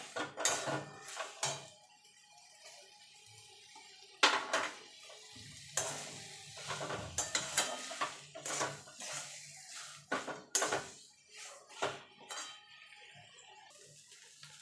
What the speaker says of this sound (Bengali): দিয়ে ভালো করে মিশিয়ে নেব মশলার সঙ্গে মাছ আর আলুটা।